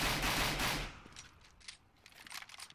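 Rapid gunfire exchange in a competitive shooter match on a map with smoke, a dense burst of shots fading into scattered, distant firing and clatter, without talk.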